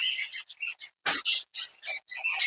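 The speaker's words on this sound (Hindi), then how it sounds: "चिड़ियों की आवाज आ रही है" Rapid, high-pitched chirping in quick bursts, several close bird calls tumbling over one another with short pauses between.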